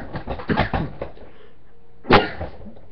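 A single sharp cough near the end, close and loud, following a stretch of brief breathy vocal noises.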